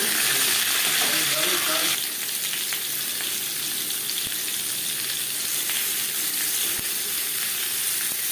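Potatoes frying in hot oil with salt and turmeric, a loud, steady, close sizzle throughout, briefly stirred at the start and then crackling evenly on its own.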